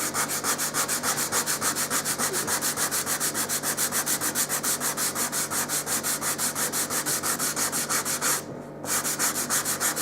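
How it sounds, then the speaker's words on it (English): Sanding the high points of a carved wooden archtop mandolin top plate, a steady, rhythmic back-and-forth rasping at close range with a brief pause near the end. "I'm going to probably sand those high points off."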